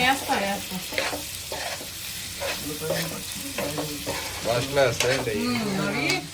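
Chicken liver fries in a pan with onions and fresh masala while it is stirred now and then. A close, steady sizzle runs throughout, with clattering scrapes from the stirring and no talk.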